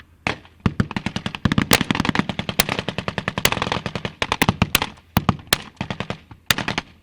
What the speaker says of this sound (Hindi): सिर्फ यहाँ बंदूकें बोल रही हैं, तोप गरज रही हैं